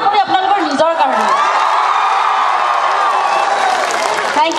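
Crowd at a concert in Bongaigaon roaring with sustained cheering, whoops and applause, a loud, dense wall of voices and clapping that holds steady before easing slightly at the end.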